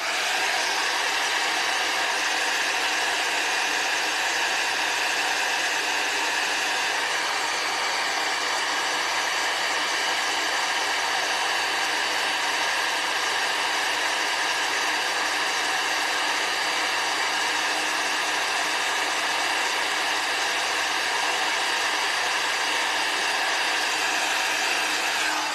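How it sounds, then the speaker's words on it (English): A 25-year-old heat tool blows steadily on white embossing powder at a desk, a continuous even hiss and whir held close and unbroken from start to finish, with no talking. "That's my 25-year-old heat tool that I keep plugged in at my desk."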